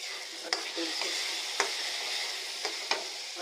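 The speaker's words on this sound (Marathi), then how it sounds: "आता बघा कसं तेल सुटते याला।" Farsan bhaji masala sizzles steadily in a pan as its oil separates, a constant bright frying hiss broken by a few sharp clicks of a stirring spoon; no talk.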